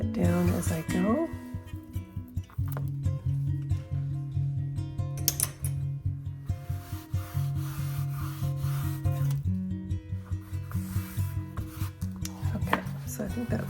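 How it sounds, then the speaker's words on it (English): Paper being peeled and smoothed down by hand while assembling a junk journal, a steady close rubbing and sliding sound with soft crackles throughout, over a continuous tonal background. "Continue just peeling this and smoothing it down as I go."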